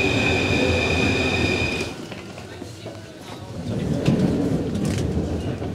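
A Paris Metro line 9 train runs between stations, a rumbling rolling roar with a high whine that fades briefly and then swells again as the cars rattle along.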